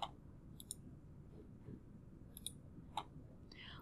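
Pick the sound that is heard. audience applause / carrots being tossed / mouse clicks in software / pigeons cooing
mouse clicks in software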